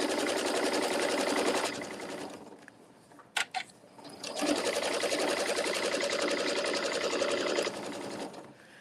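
A sewing machine stitches a quarter-inch seam on a fabric table runner, running in two long steady bursts with a short pause and a couple of clicks between them, no talking.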